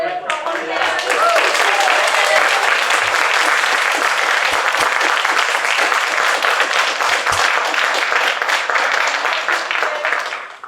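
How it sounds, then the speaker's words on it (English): A theatre crowd at a 2024 Macbeth performance gives a loud, continuous round of applause, thick steady clapping lasting the whole stretch and easing slightly near the close. "Round of applause for the"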